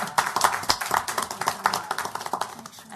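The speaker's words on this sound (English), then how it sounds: "I'd just like to give you a round of applause because you missed it." A short round of applause from an audience at a city council meeting: a few seconds of brisk, dense hand clapping that stays fairly even, then thins out slightly toward the end, with no talking over it.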